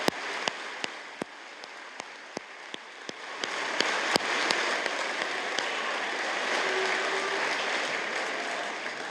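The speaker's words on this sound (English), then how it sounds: "I just ask any of them who are retiring now to stand up so we can give them a big round of applause" An audience at a BCIT convocation applauds retiring faculty, starting as scattered individual claps that swell after a few seconds into sustained, dense clapping across the hall.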